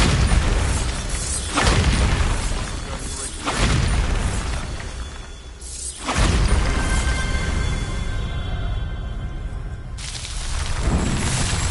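A Bombarda blasting spell from the video game Hogwarts Legacy goes off repeatedly, loud booming bursts recurring every couple of seconds with rumbling tails between them.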